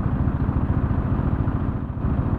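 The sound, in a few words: 1000 cc motorcycle engine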